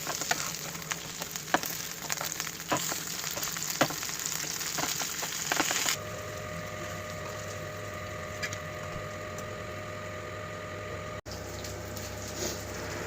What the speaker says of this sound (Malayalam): കുറച്ച് മത്തി അങ്ങോട്ടും ഇങ്ങോട്ടും വേവണം,